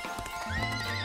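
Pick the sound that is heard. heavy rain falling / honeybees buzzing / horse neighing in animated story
horse neighing in animated story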